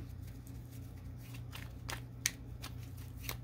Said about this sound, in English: Two more shuffles, please.